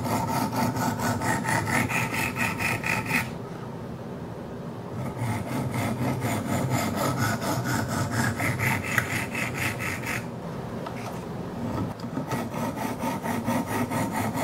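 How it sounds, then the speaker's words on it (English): Steady rasping strokes of 100 grit stones on a Wicked Edge sharpener working a Kershaw Skyline knife edge being reprofiled from 20 to 15 degrees, loud and continuous with two brief pauses, no talking. "Right now I'm on the 100 grit stones."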